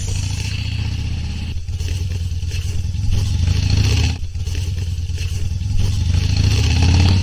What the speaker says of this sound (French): Quand la moto passe, tout s'efface.